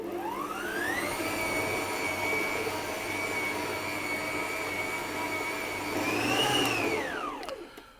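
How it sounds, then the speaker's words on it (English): A stand mixer kneads soft Japanese milk bread dough on low speed, giving a steady, close motor whine that holds for about seven seconds, swells briefly, then winds down. No one speaks. "I'm going to turn the mixer on again and I'm going to knead this again on a low speed"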